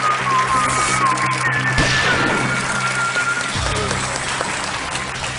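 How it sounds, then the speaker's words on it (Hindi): Studio audience on the Kaun Banega Crorepati quiz show applauding a new contestant, a loud burst of clapping mixed with show music tones and a few sharp hits. "आइए तालियों के साथ अभिजीत जी का स्वागत किया जाए।"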